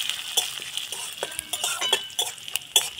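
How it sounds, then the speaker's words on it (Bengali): Fennel seeds fry lightly in a little oil in a hot wok, a soft faint sizzle beneath sharp metallic clinks and scrapes of a utensil against the pan, close and quiet. "তো মৌরিটা একটু হালকা করে ভেজে নেব।"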